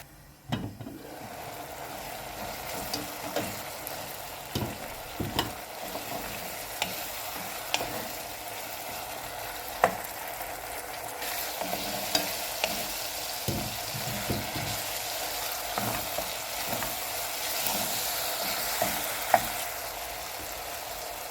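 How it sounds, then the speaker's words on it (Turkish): Steady sizzling of chicken frying in a pan, with intermittent scraping and clinks of a utensil stirring, close by and fairly quiet. "Biraz da tavukla kavuralım."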